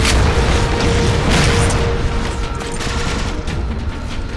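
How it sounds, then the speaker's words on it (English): Concussion rifle shots and explosive impacts in Halo 4 Spartan Ops combat, loud booming blasts layered over constant battle noise, with no voice. "I hate concussion rifles so much."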